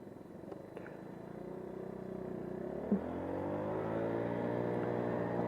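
A BMW car drives past on a Milwaukee street with a low, faint engine purr that slowly builds and holds steady, heard from a little distance.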